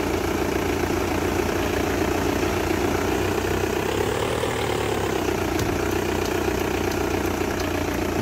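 Engine of a cheap rented Seat car in a Roblox driving game, a steady droning hum with a slight rise and fall in pitch midway, continuous and fairly loud with no speech.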